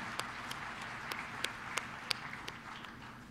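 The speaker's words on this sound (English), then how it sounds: "Let's give them a big round of applause for their wonderful sharing." Sparse, faint audience applause at a financial services conference, a handful of distinct claps standing out over a low room hum, quiet and thinning out.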